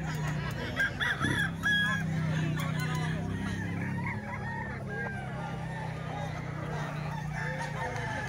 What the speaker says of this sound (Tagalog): Daming manok mga bossing sa Bukawi.